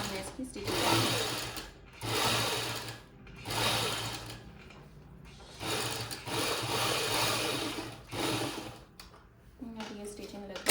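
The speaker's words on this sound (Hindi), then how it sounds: "देखो बिल्कुल प्रेस करके हमने इसकी स्टिचिंग करनी है।" A sewing machine stitches an invisible zip in repeated bursts of rapid mechanical whirring, each run lasting a second or two and separated by short pauses, heard close and clear.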